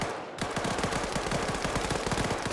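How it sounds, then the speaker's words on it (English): Automatic rifle fire in the Arma 3 video game, a rapid, loud, continuous burst of shots in quick rhythm. "just someone firing his automatic rifle back here"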